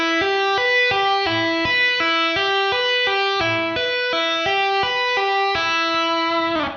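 Distorted electric guitar plays a fast tapped triplet lick, with latched hammer-ons and pull-offs in a hybrid-picking shred pattern. Bright, sustained notes step through a rapidly repeating sequence, loud and close, with no voices.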